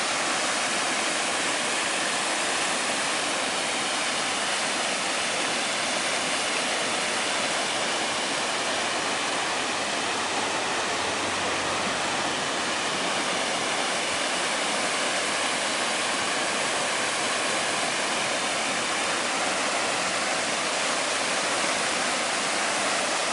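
Flood water after flooding in Altai roars loudly and constantly throughout, a dense, unbroken wash of noise with no voices.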